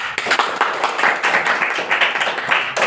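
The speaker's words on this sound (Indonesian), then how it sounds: "Kasih aplaus untuk semuanya" A classroom of students applauds together, a steady, dense patter of many hands clapping at close range for the full stretch, with no talk over it.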